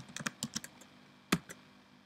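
Fingers type a short terminal command on a computer keyboard: a quick run of light, close key clicks, a pause, then one firmer keystroke like pressing Enter, followed by a final soft tap.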